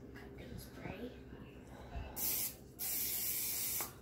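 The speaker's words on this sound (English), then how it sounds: "I'm gonna spray it with some of this. Cooking spray." Cooking spray hisses from a can in two bursts, the second longer and steady, loud and close, following quieter kitchen handling noises.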